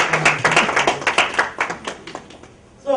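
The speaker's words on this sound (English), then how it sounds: "Can we just clap for her husband?" Scattered audience clapping at a high-level forum, a small group of distinct hand claps in uneven rhythm that thins out and stops, followed by a brief voice.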